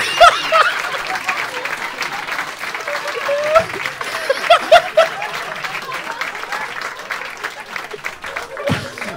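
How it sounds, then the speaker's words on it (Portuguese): A comedy show audience breaks into loud, dense applause mixed with laughter and whoops, a close continuous wash of clapping that holds steady throughout, with voices mingling in the crowd noise. "Essa hora que tinha que aplaudir."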